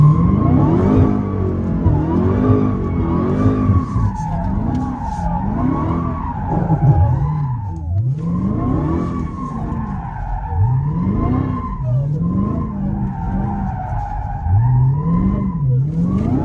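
A Dodge muscle car skids and spins out, its tires squealing in long wavering howls over a loud, revving engine that rises and falls continuously, close and strong throughout.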